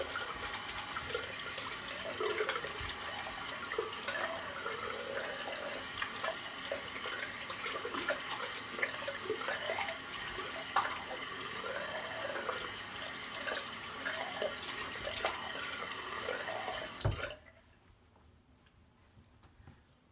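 Water runs steadily from a tap at close range while someone rinses after a straight-razor shave, a continuous splashing flow that cuts off abruptly near the end, leaving faint room tone.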